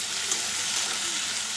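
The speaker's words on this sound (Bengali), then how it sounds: "এগুলো পেঁয়াজের সঙ্গে একটু হালকা করে ভেজে নেব।" Potatoes and jackfruit seeds fry with onion in a pan, giving a close, continuous bright sizzle with small crackles throughout the short stretch, no talking.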